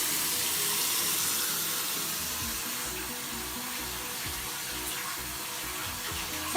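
Water runs steadily from a sink tap while hand soap is being made and tested, a continuous broadband hiss staying close and even throughout with no talk over it.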